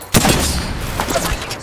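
Close gunfire in Apex Legends, a loud burst of shots at the start followed by further cracks and rumbling combat noise over roughly a second and a half.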